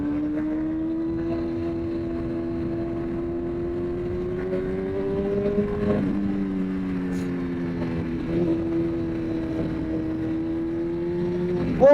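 A Honda CBR 1000 motorcycle engine in a workshop revs steadily at close range, its pitch climbing and dropping in a couple of held swells, loud and continuous with no talk over it.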